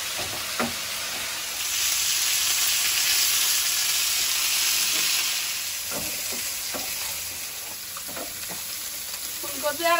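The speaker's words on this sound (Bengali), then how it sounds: "হলুদ গুঁড়ো, লবণ, ভালোভাবে ফুলকপি আর আলুটা ভেজে নেব।" Cauliflower and potato fry in a pan with turmeric and salt, giving a steady close sizzle that swells in the middle, with occasional scrapes and clacks of a stirring utensil.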